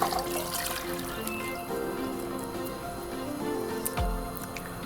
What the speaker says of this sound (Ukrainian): буряк та морква ми заливаємо водою